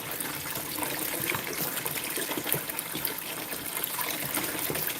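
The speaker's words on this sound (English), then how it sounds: "wash the rest of the material out of my pan and into the box without making giant splashes everywhere" Water pours and trickles steadily as material is washed out of a gold pan into a sluice box during a gold concentrate cleanup, a continuous close gushing and splashing with no talk.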